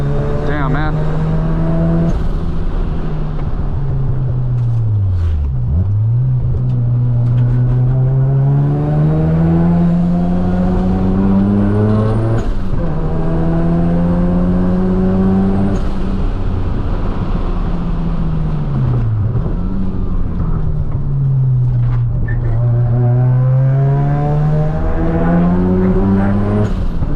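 Mazda RX7 FD rotary engine droning loudly from inside the car on a mountain touge run, pitch climbing through repeated accelerations with dips at each shift, and a voice speaking over it.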